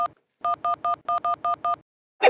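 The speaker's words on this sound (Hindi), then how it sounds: "फोन लगाता हूँ, फोन।" Seven crisp telephone keypad tones beep in quick, even succession, each short and clear, with a brief burst of another sound right after.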